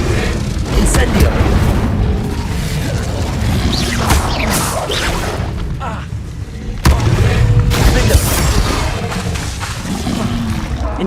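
A fire spell cast in the video game Hogwarts Legacy bursts out as a loud, dense roar, with heavy booming blasts that continue throughout and surge sharply again near the middle.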